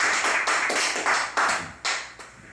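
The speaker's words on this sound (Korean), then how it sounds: "박수로 모시겠습니다." Hands clap in a steady rhythmic beat to welcome a pastor onto a church broadcast. The sharp claps repeat about twice per second and fade slightly toward the end.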